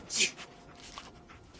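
Dogmeat, the dog companion in Fallout 4, gives a quick burst of panting and whimpering breaths up close, with a voice speaking alongside.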